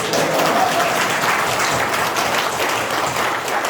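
Steady, dense applause from a seated audience at a training session for cooperative chairpersons, loud and continuous throughout with no voices over it.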